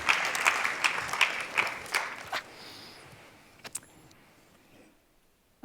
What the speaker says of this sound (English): Give yourself a round of applause, actually